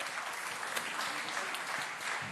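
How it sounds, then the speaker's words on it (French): An audience at a sportsperson-of-the-year ceremony in Mayotte applauds performers, a dense continuous patter of many hands, fairly quiet and distant throughout. "Merci de les applaudir."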